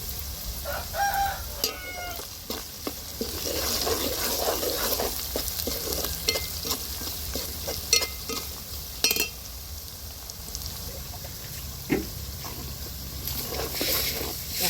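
Chicken curry with turmeric fries in a pan, producing a constant close sizzle broken by scraping clicks and clatters of stirring, while a person talks intermittently.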